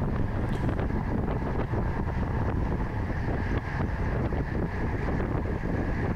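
Loud, steady wind roars across the microphone of a cyclist riding a road bike race on a small country road with a crosswind, a continuous rushing buffet that lasts the whole stretch with no talking.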